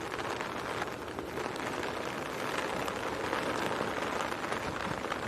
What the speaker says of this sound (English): it's absolutely torrential at the moment.